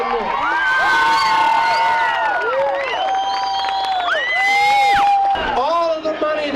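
A crowd at a Relay for Life charity event cheers loudly, with whoops, high shouts and clapping blending into a continuous, energetic roar that peaks near the end.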